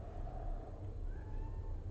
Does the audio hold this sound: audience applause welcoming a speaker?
no